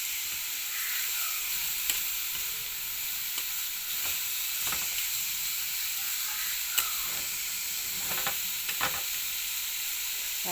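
Papaya thoran (raw papaya stir-fry) sizzles steadily in a pan while being stirred, with a constant hiss and a few soft scraping clicks of the spoon, close and alone with no voices.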